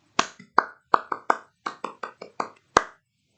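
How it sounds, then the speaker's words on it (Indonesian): A group of scouts performs a rhythmic scout clap, about a dozen sharp hand claps in a patterned beat with short pauses, close and clear with no talking over it. "Mari kawan-kawan kita melakukan tepuk pramuka bersama-sama yang akan saya pimpin"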